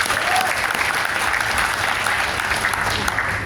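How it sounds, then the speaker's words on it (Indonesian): Applause from the audience at a community iftar gathering of a civil service alumni association in Depok, a full, steady wash of many hands clapping that stays loud throughout. "tepuk tangan dulu buat kita semua"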